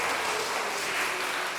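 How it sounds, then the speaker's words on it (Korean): A Korean church congregation in Dortmund applauds during a Sunday worship service, a dense, even wash of clapping filling the hall without pause. "우리 박수로 축하해 주시기 바랍니다"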